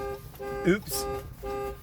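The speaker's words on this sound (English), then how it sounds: "My alarm went off." An alarm sounds in steady harmonic tones that start and stop twice, with a brief pause between them, fairly loud and close, while a person speaks briefly over it.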